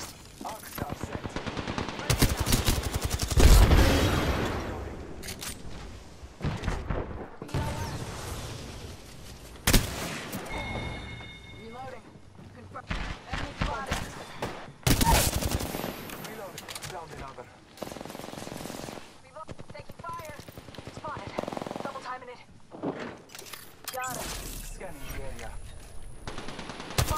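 Rapid automatic gunfire and single shots from the Apex Legends video game ring out in repeated loud bursts throughout, mixed with other sharp in-game effects while players talk over the action.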